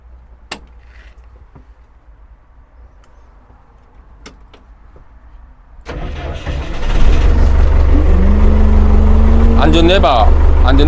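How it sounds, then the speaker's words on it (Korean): A diesel engine on a bulldozer more than twenty years old cranks and catches partway through after a quiet stretch with scattered clicks, then settles into a loud, steady, rumbling idle with a whining pitch sweep. "시동을 걸겠습니다"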